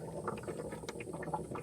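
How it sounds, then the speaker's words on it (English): Steady, quiet bubbling and gurgling of liquid in a 4WD's radiator coolant with oil in it, not hot, with small irregular pops and glugs throughout, close by and without voices. "Sounds like it's boiling, but it's not actually hot."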